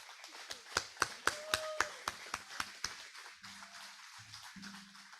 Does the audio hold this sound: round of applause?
yes